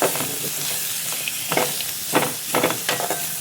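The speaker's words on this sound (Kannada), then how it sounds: "ಚೆನ್ನಾಗಿ ಬೆಣ್ಣೆಲಿ ನಾವು ಫ್ರೈ ಮಾಡ್ಕೋಬೇಕು." Soup vegetables fry in butter with a loud, close sizzle, and bursts of stirring and scraping swell in and out over the hiss.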